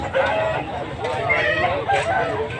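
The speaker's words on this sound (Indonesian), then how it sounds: "Sebelah sana ayam. Ini bagian ayam" Chickens cluck and squawk at a bird and chicken market, a busy overlapping chorus close by with a rooster crowing among them.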